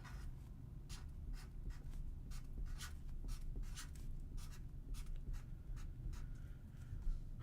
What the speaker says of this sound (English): Let's write our word for today.